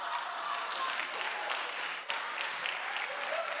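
A steady burst of applause from a crowd at a church youth congress, continuous clapping at moderate distance throughout with no clear talking.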